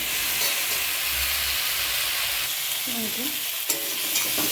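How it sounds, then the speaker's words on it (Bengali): Vegetables frying in a pan and being stirred, a close, steady sizzle with scraping stirring strokes over it, moderately quiet and without speech. "একটু ভাজবো ভেজে ভেজে তারপর একটু জল দিয়ে দেবো"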